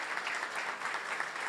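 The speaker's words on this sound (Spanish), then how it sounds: "el aplauso último para" Brief burst of audience applause for the author at a book launch on the history of the school system in Santiago del Estero, steady and dense with no voices over it.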